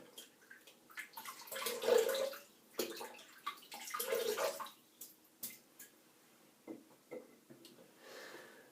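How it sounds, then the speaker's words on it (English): Water splashes and gurgles as a shaving brush is wetted, faint and close, with soft intermittent sloshes and drips, no voices. "we'll get the brush wet and we'll get lathering up"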